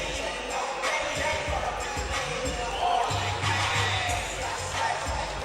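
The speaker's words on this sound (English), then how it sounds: "And the crowd here absolutely loving us." Crowd at a live MMA fight event cheers and shouts in a steady, moderately distant roar, with scattered whoops and thumps from the arena.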